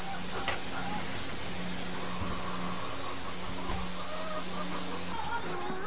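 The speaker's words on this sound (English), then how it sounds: "And if you hear our chickens, they're in the background looking at me." Chickens cluck softly in the background, scattered calls over a constant hiss of ambient noise, somewhat distant and faint.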